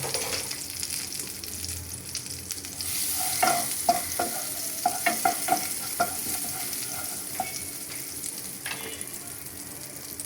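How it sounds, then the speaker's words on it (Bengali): Butter sizzles steadily in a frying pan for a breakfast dish, a continuous close hiss punctuated by several sharp clicks and scrapes of stirring in the middle stretch, with no talking. "ফ্রাই প্যানে এখন বাটার দিয়ে দিলাম।"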